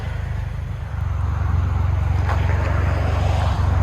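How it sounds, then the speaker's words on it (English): A 2009 MINI Cooper Clubman Turbo S with a muffler delete and dual exhaust, loud low throbbing exhaust pulses close to the microphone, rising slightly in intensity partway through and holding a steady rumbling idle. "Muffler delete on a Clubman."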